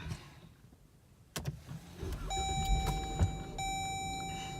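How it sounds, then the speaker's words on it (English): A Jeep Grand Cherokee SRT cranks and its engine catches after a couple of faint clicks. The idle settles into a steady, moderately loud rumble while a constant electronic chime or tone sounds over it. "So let's go ahead and fire this thing up."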